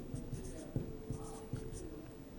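A pen or marker scratches out handwritten notes during a Hindi-language chemistry lecture on thermodynamics, with a steady run of short, close strokes and a few sharper taps over an even room hum.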